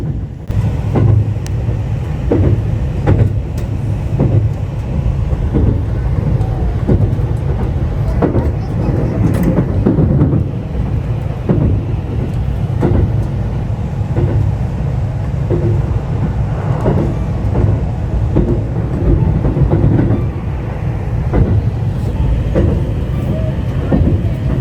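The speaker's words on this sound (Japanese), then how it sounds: "列車は弘前駅までやってまいりました。" A train rumbles and clatters steadily as it pulls into Hirosaki station in Aomori, with loud low-end rolling noise and repeated rail clicks throughout.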